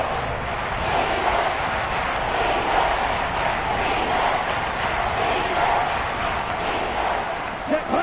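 A football stadium crowd roars steadily before a big third down, a dense, sustained wash of cheering that swells slightly at moments, with a voice speaking over it.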